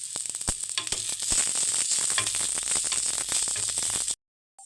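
Garlic cloves added to browning onions in a pan for kat vada, a loud close sizzle and crackle of frying with scattered stirring clicks, cutting off abruptly near the end.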